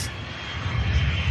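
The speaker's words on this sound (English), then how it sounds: "This BizJet you're about to get a glimpse of is the" A business jet at Manchester Airport fills the air with a steady, loud engine roar and broadband rush, close and continuous with no talk.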